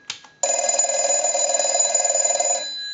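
Stromberg Carlson 1198 telephone with a Bell Box 1561 ringer sounding one continuous bell ring cycle, loud and close, a rapid metallic trill lasting about two seconds after a brief click.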